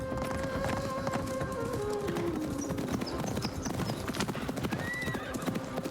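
Horse in the video game Assassin's Creed Mirage, rapid hoofbeat clip-clop galloping continuously with a loud drawn-out neigh, set against a dense game soundscape.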